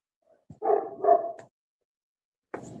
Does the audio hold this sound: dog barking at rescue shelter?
yes